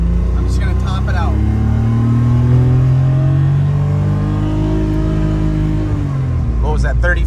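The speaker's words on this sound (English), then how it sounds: "this is first gear. I'm just gonna top it out" A car pulls hard through first gear to the top of its rev range, the engine note rising steadily and loud for several seconds before easing off, with people talking over it at the start and end.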